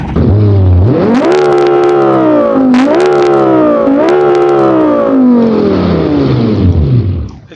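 Rear-engine WRC rally car revving hard in the BeamNG video game, a loud continuous engine howl rising and falling in pitch across several throttle blips, with sharp crackling pops on the overrun, no voices.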